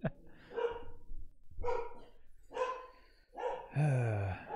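Three pet dogs bark in four quick bursts, fairly close and fairly loud, the last one a longer, higher, more whining yelp, with no talking over them.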